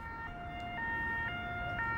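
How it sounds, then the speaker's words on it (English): European emergency vehicle siren sounding a steady two-tone alternating wail, high and low pitches switching roughly every half second, clear and moderately near, with no talking. "This is a European siren."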